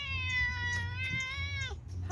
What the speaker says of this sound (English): Oh, there's a kitty coming over.